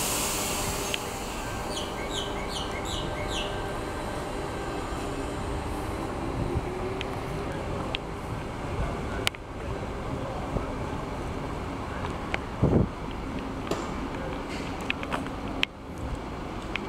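Sydney train pulling away from Blacktown station, a steady rumbling roar with rail noise and a few high squeals and clanks continuing throughout, fairly near, with no talk.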